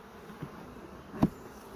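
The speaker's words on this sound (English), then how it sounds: "Seem like pretty nice bees." A caught honeybee swarm is eased into a hive box at a camp, with a faint, low buzzing and a single soft knock close by.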